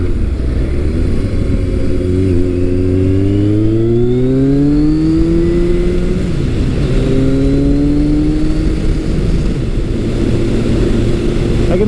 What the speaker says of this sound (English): this bike at highway speeds, I'm doing about 65 right now